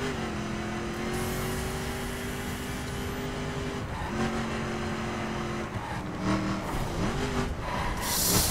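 A car in the racing video game The Crew brakes and crashes head-on into a pillar: a loud, steady engine drone with shifting pitch runs throughout, then ends in a harsh, noisy burst of impact.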